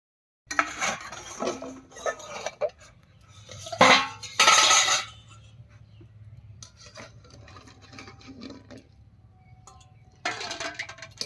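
Boiled eggs lifted from a pot as the lid comes off and set into cold water, with clinking pot and utensil knocks in bursts, a loud clatter midway, then quieter stirring and handling.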